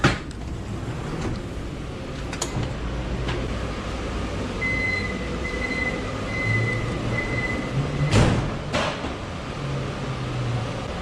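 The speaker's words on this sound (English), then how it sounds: "I'm taking the subway to Schönbrunn Palace." Steady rumble and rattle of a Vienna U4 subway train heading toward Schönbrunn station, with a brief electronic chime tone midway and a couple of sharp bangs near the end, no voices.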